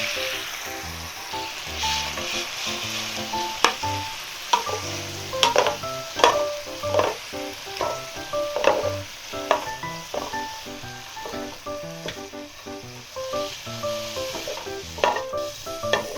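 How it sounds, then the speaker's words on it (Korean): Seasoned dried filefish strips (myeongyeopchae) are stir-fried in a bubbling sauce over low heat, a steady sizzle broken by repeated clacks and scrapes of the utensil against the pan, close and with no speech. "이게 이렇게 끓어오르면 약불에서 아까 볶아준 명엽채를 넣고 금방 볶아낼게요"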